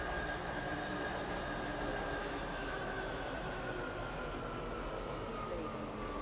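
A Class 170 diesel train runs in the SCR railway video game, giving a steady, continuous rumble with broadband rolling noise and a faint tonal hum, close and unbroken throughout.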